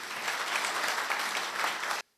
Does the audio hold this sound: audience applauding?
yes